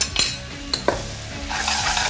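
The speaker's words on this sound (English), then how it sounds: "Butter goes in, apples are getting caramelized" Granny Smith apples caramelize in butter in a pan, a close, bright sizzle marked by a few sharp clinks of a utensil against the pan, building to a denser frying hiss at the end.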